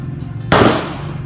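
A single sharp, loud gunshot from a Taurus M992 pistol fired at close range, an abrupt bang followed by a short decaying ring.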